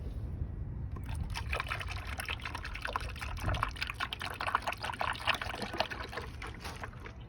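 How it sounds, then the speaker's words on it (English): SAE 5W30 motor oil pours through a funnel during an oil and filter change, a steady close gurgling trickle lasting several seconds with no talking. "And now let's just go ahead and start pouring."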